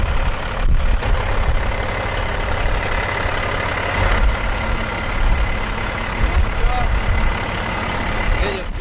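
Truck engine idling with a steady low rumble, close and continuous for about nine seconds, with a voice talking over it.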